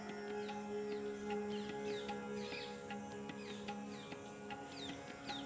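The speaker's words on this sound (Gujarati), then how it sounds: "પક્ષીઓનો કલરવ અવાજ સંભળાઈ રહ્યો છે" Birds chirp repeatedly in short rising tweets in the garden of an old Hanuman temple at Dhansura during the monsoon, scattered throughout, over a steady background hum.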